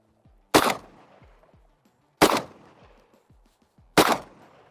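Three loud, sharp 12-gauge shotgun blasts fired one by one at even intervals about 1.7 seconds apart, each close and booming with a short decaying tail, and no talk between them.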